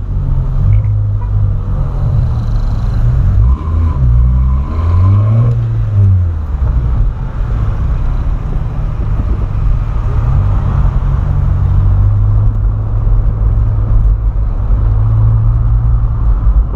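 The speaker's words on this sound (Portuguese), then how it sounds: "pra vocês escutar os ronconzinhos do motor" A VW Polo with a sport exhaust rumbles loudly and close, its deep drone rising and falling as the engine is revved a few times before settling into a steady burble, with no talking.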